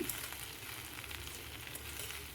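Okra sizzles in a hot pan while being stirred, giving a steady close crackle with soft scraping touches throughout.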